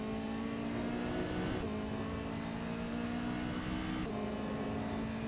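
LMP race car passing in a racing video game on the Road America circuit, a steady, loud engine whine and drone with shifting pitch throughout, no talk.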